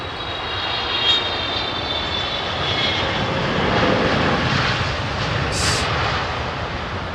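An airliner on approach to land on runway 27R at London Heathrow Airport, a steady loud jet engine roar with a slow swell, alone with no voices.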